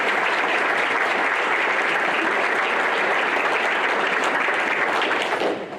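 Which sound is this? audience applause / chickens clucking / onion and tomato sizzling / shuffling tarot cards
audience applause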